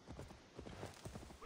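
Horse hooves clip-clop in a steady, brisk rhythm across the ground in Assassin's Creed Valhalla, the hoofbeats close and fairly clear over a faint background wash.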